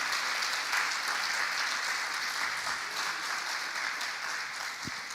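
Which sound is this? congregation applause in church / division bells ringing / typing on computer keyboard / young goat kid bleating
congregation applause in church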